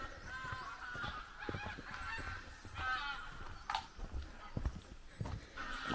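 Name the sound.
flock of ducks calling loudly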